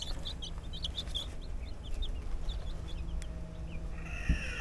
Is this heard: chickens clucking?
yes